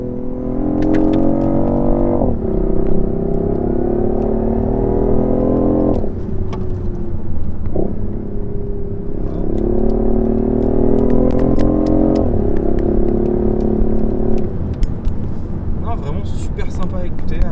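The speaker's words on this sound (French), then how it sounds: "c'est agréable même de rétrograder, de l'entendre là." A car engine accelerates through the gears, revs rising in steps with clear shift drops and downshift blips, heard loud from inside the cabin with a person talking over it.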